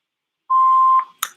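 A single steady voicemail beep sounds for about half a second, clear and close, followed by a short faint click or breath.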